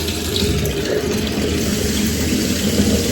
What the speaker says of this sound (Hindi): मैं सोच रही हूँ ठंडा ठंडा पानी भरूंगी